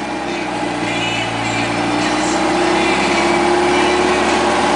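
An MG TF sports car engine held at a steady 2000 rpm, a continuous even hum with a slight rise in loudness, close and alone with no talking.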